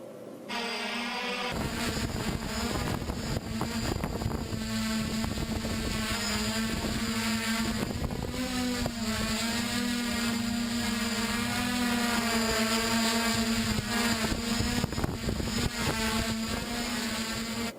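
A rescue drone flying indoors through a building window during a disaster-management demonstration, its rotors giving a loud, steady buzzing whine with droning harmonics that persists throughout, no speech.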